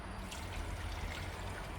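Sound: water poured into a pot

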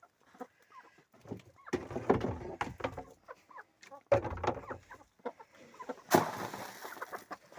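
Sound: geese

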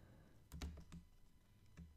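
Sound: typing on a computer keyboard

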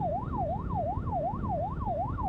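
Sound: ambulance siren passing in traffic

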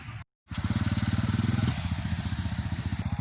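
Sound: motorcycle with sidecar being ridden

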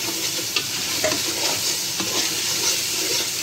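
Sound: masala spices frying in a pan

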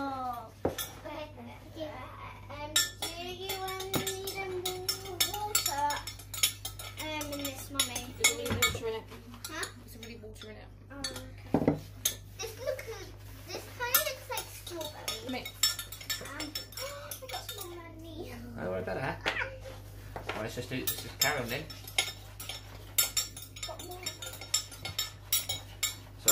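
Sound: stirring homemade playdough mixture with utensils in bowl

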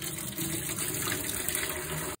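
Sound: rinsed seeds and water poured through a strainer

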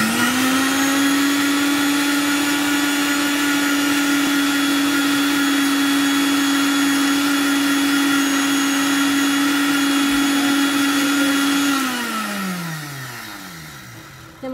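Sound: blender beating macaroni mayonnaise with oil

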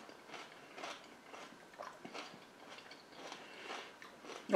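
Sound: biting into a lunch dish with celery

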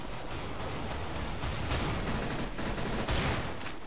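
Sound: gunfire from a weapon in the video game Counter-Strike: Global Offensive

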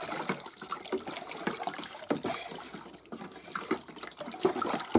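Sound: stirring citric acid solution in water

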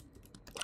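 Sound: typing on a computer keyboard

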